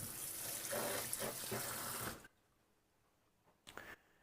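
Pork pieces rinsed in a colander under a running kitchen tap: a steady hiss of spraying water for about two seconds, then quiet, then one brief renewed splash.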